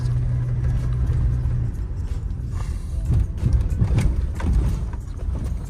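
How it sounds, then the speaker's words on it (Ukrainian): A SsangYong Actyon Sports pickup driving over bumpy, rutted ground, heard as a low engine and road rumble from inside the cab with irregular thumps and rattles as it jolts along. "от я от по кочках лупашу, да?"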